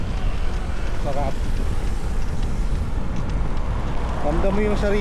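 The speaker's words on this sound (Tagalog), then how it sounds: "Pero ang lakas ng headwind." Strong headwind batters the microphone while cycling past rice fields, a constant loud rumbling rush with faint voices and bird-like chirps in the background.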